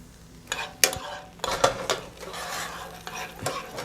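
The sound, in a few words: stirring pecans and half and half in a pan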